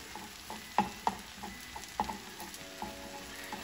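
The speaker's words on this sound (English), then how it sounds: "I'm gonna take the egg and just do a little swirly action, just like this." An egg is swirled and frying in a hot pan with rice and salmon for salmon fried rice, giving a faint, soft sizzle broken by a few light scraping clicks.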